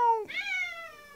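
A cat meows once, close and fairly quiet, a single short rising-then-falling cry in a quiet room after its food has dispensed.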